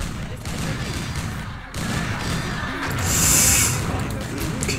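Crackling bursts of artillery and gunfire in an Empire Earth battle, continuous and fairly loud, with a brief dip and a brighter swell near the end, under a speaking voice.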